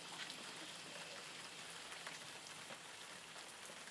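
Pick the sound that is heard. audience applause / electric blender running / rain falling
rain falling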